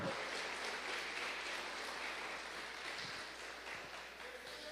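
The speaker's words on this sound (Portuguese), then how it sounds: "Bate palmas para Jesus" A church congregation applauds for Jesus, a faint, distant wash of steady clapping that holds evenly and slowly tapers, with possible voices blended in.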